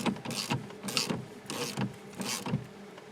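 Screws on a GM steering column are snugged down with a ratcheting tool, giving about five short rhythmic bursts of clicking and grinding, close and fairly quiet, with no talking.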